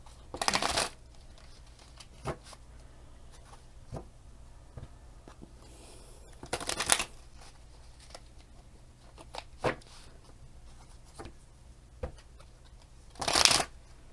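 Tarot cards shuffled by hand, three brief bursts of riffling spaced several seconds apart, close and crisp, with quiet taps and handling noises between.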